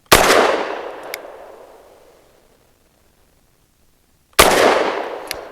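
Two sharp, loud gunshots from a Walther PDP F pistol firing 110-grain rounds ring out about four seconds apart, each followed by a long decaying echo.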